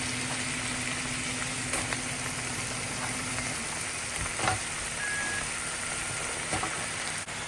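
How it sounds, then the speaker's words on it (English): Pumpkin pieces go into hot seasoning in a pan for pumpkin talkari, giving a steady, close crackling sizzle throughout, broken by a few faint clicks and knocks. "now we're going to add our pumpkins"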